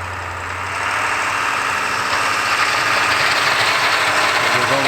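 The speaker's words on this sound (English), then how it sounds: "That truck does sound freaking mean, though" A plow truck's engine idles steadily with a deep, rough rumble and a slight rise in level after the first second, running continuously close by on a gravel lot.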